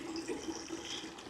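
A Sicce Ultra Zero utility pump pushing water through a hose into a bucket, a steady close splashing stream that fills the whole stretch at an even level, with no talking.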